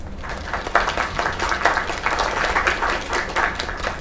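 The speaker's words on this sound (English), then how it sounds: "Another round of applause." Applause breaks out for a singer named Kay at a show, a steady mid-level patter of many hands clapping for about four seconds without pause.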